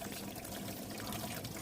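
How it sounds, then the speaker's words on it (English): Water gurgles and trickles steadily from a small DIY garden waterfall fountain, a continuous soft splashing flow heard close and alone with no voices. "just hear the relaxing and peaceful sound of gurgling water for some time using your headphones"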